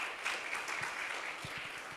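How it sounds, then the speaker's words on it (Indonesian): A church congregation breaks into lively applause, a dense, even patter of many hands clapping together for a couple of seconds. "Tepuk tangan yang meriah bagi Tuhan kita."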